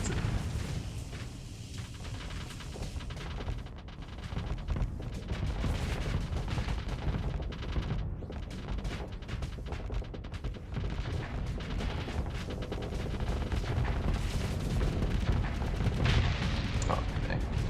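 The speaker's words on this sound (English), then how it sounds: "Those missiles were spot on." Rapid volleys of missile explosions and weapon fire in a Starsector space battle, a dense continuous barrage of booms and blasts running throughout without pause.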